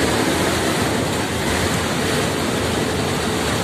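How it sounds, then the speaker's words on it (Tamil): A strong, dust-laden wind in Madhya Pradesh blows as a loud, continuous roar with heavy buffeting against the microphone, steady throughout and without any talking. "புழுதி காத்து கிளம்பி விட்டது."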